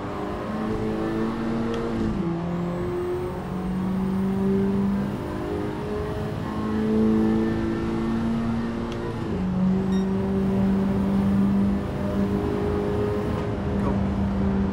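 Honda Civic Type R FL5 racing on Tokyo Expressway in Gran Turismo 7, engine droning steadily and loud with rising and falling pitch through gear shifts, no talk.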